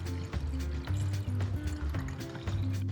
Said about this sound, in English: First, the water goes into these jars.